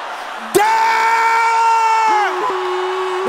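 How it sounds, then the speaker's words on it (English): A loud, sustained shout rises suddenly from worshippers calling out prayers at a deliverance prayer service, holding a strong ringing pitch for about two seconds before dipping and carrying on more softly. "Can I hear you shouting those things?"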